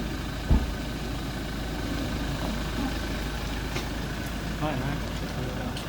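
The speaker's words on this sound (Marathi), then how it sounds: "येतोय गाडी." A car engine rumbles steadily close by as a vehicle pulls up with a candidate's party headed to the district collector's office, with one brief thump and faint voices in the background.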